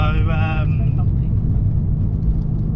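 A Fiat Abarth with a Stage 1 tune drives along a country road, its low engine and road drone steady and close throughout, with a brief voice-like tone near the start.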